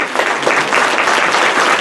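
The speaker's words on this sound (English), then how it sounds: "So give yourselves a round of applause" Staff of the New Mexico Office of the State Auditor applaud themselves at an audit rule training session: loud, dense crowd clapping, continuous and even throughout the short burst.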